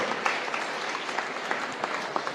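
Audience applause fills a college debate hall at JPR college in Chennai, with dense, steady clapping from a crowd throughout.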